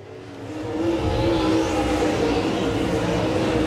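Race cars accelerate on the Talladega Short Track oval, a broad engine roar that swells over the first second and then holds as a steady, fairly distant drone.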